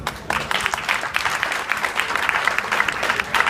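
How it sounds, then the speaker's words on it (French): An audience applauds a contestant named Christophe on a French show, steady, lively clapping from a sizable crowd, close and continuous throughout. "on applaudit Christophe"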